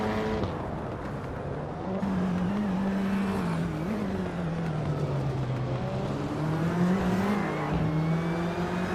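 A 2018 Peugeot 308 racing in a video game, its engine droning loudly and continuously with pitch rising and dipping through gear changes and throttle, heard alone.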